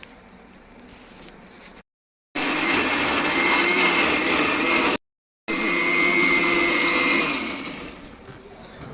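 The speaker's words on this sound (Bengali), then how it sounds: "তো এই যে সেই কাঁটাগুলো মিক্সার মধ্যে দেওয়া হচ্ছে।" A kitchen mixer grinds jackfruit pieces for pakoras, whirring loudly and steadily in two long runs separated by brief silences, then fading toward the end.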